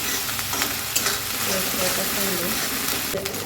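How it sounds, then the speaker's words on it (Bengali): Onion and green chili paste fries in hot oil with cardamom and cinnamon, a steady close sizzle broken by a spoon stirring and scraping the pan, with a voice talking over it. "পেঁয়াজ আর কাঁচামরিচ বাটাটা দিয়ে দিই। ভালো করে লাল করে একটু ভেজে নিই"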